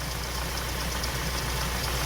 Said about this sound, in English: hopefully you can hear me over the noise of the engine